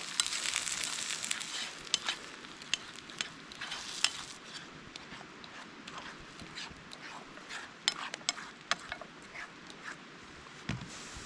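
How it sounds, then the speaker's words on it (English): Eggs fry on a grill over a hot campfire while winter camping in New Zealand, making a close, steady crackling sizzle dotted with sharp pops and ticks, with no one speaking. "now let's get some eggs on the grill"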